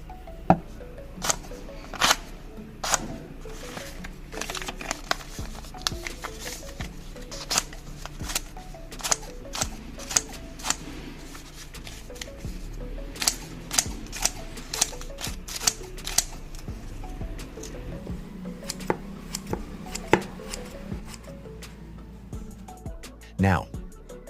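Scissors freshly sharpened with a coin snip through paper in a long series of crisp, sharp cuts, some quick and clustered and others spaced apart, over a low steady background.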